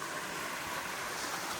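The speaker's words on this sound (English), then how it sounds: "final shot of the little waterfall coming down here" Small waterfall flows in a steady, even hiss of rushing water, continuous and fairly close, with no voices.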